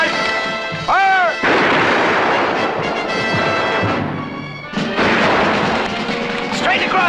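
A volley of musket and cannon fire erupts in a staged period battle, with loud booming blasts and crackling shots in quick succession, mixed with shouting voices.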